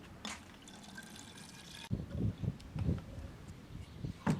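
Apple juice poured into a Crazy Goat dispenser refill, arriving as a run of irregular liquid splashes and glugs after a brief quieter start, close and moderately loud with no one talking.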